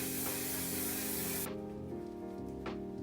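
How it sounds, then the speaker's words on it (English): Until Dawn makeup setting spray mists out in one loud, close, sustained hiss that lasts about one and a half seconds and then cuts off, leaving faint room noise. No one speaks. "Final stage, Until Dawn setting spray."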